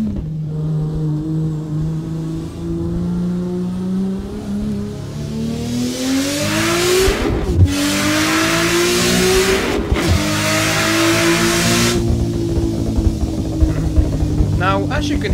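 A race car engine in the racing game Assetto Corsa revs and climbs through gears with sharp shift breaks, loud and close, with crackling pops; a voice talks faintly underneath.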